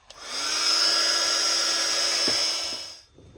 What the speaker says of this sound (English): I'll just give that a quick blast with the heat gun